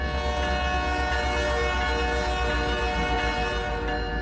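SD70ACU diesel locomotive running in the Trainz simulator, a steady droning engine hum with layered tonal whine, loud and continuous without speech.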